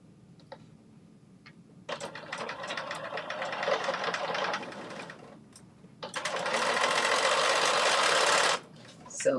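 A sewing machine stitches a seam at a 3/8 inch allowance, running in two steady bursts with a short pause between them; the second run is louder and more even.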